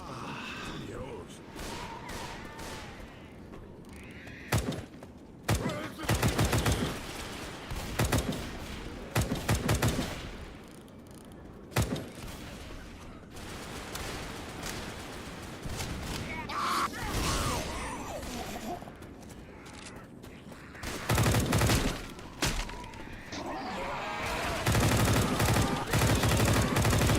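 Video game gunfire in a realism mode: repeated bursts of rapid automatic shots and single cracks, loud and close, with quiet stretches between, mixed with crashes and someone talking at times.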